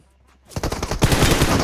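Gunfire in the mobile battle-royale game PUBG Mobile comes in after a quiet start: a quick burst of loud automatic shots, then a dense, sustained volley up close.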